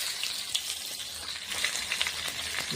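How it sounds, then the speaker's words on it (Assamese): Onions fry in very hot oil in a wok, giving a steady close sizzle with crackling spits throughout and no talk. "এইফালে কেৰাহীত তেল পূৰা একদম উতলি আছে একদম। আমাৰ প্ৰথমতে পিঁয়াজ দিয়া হৈছে।"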